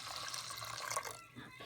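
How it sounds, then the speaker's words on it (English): Water pours steadily into a pot of homemade chicken soup on the stove, a close, bright splashing stream that tapers off near the end. "So we're going to add a little bit more fluid,"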